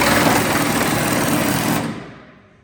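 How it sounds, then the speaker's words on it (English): Power tool loosening the bed bolts on a 1997 GMC truck during a restoration, a loud steady mechanical whine and rattle that runs continuously, then cuts off and fades away near the end. "Taking the bed bolts out."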